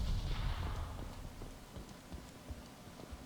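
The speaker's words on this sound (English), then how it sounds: "Oh crap, explosions." Low, rumbling booms and scattered crackling impacts from the video game Mass Effect 2, loud at first and then fading into a series of smaller thuds.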